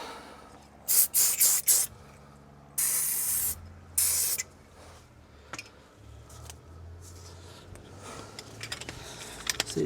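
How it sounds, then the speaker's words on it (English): An aerosol can sprays the front strut of a VW Crafter van during a Bilstein B6 strut fitting: several short bursts, then two longer hissing blasts, close and loud, followed by quieter workshop clicks and handling noise. "Give that a wee spray."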